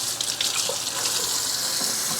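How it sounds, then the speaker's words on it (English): Water running steadily from a kitchen sink tap while peppers are rinsed, a continuous close hissing splash with faint clatter. "rinse these off in the sink"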